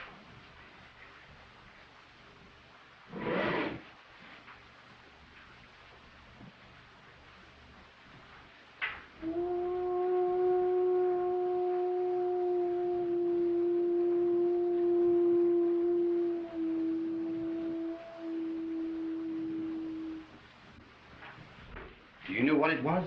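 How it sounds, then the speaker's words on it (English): Eerie horn-like call known as the call of Siva, a film sound effect heard as a sustained, wavering tonal blast lasting about ten seconds after brief knocks, moderately loud in a quiet scene. "It's the call of Siva"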